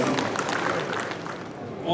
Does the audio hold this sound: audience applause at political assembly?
yes